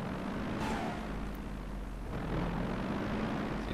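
Fairey Swordfish biplanes take off from an aircraft carrier in the IL-2 1946 flight game, a steady, fairly faint droning engine rumble with no talk.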